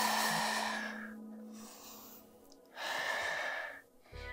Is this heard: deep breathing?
yes